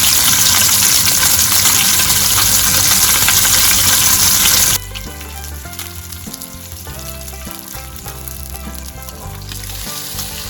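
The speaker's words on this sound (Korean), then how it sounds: "기름이 가장자리로 쏠리지 않도록 틈이 흔들어가면서 구워주세요." Salmon frying in oil in a pan that is shaken now and then. A loud, dense sizzle at first drops abruptly to a quieter sputter over a tonal background.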